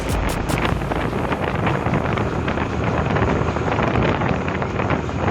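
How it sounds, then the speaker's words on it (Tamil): Loud, steady wind buffeting a microphone during a 150 cc motorbike ride in light rain near Kanyakumari, a continuous broadband rush with no talk. "ஏன்னா நல்ல ஜில்லுன்னு காத்தடிச்சது"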